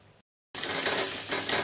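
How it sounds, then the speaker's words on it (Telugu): Mutton pieces sizzle loudly in a hot pan for mutton fry biryani, a steady close frying hiss that bursts in after a brief silence. "ఇదిగోండి మటన్ వేగింది కదా"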